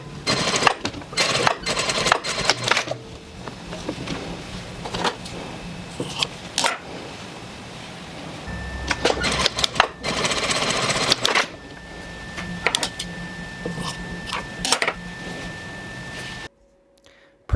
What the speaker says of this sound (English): So let's sew these strips together.